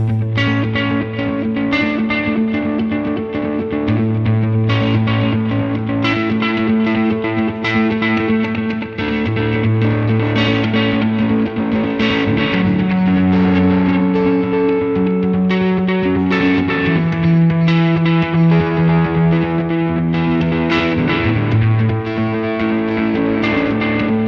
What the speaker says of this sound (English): digital delay usually has very clean repeats